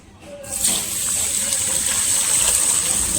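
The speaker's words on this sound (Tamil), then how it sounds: "ஸோ இப்போ தண்ணி ஊற்றி இதை ஊற வச்சுக்கலாம்." Water gushes steadily into a pot of rice set to soak, a continuous close splashing pour that starts abruptly and holds for a few seconds with no talk.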